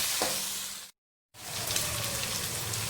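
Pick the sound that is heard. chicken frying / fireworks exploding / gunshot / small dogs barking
chicken frying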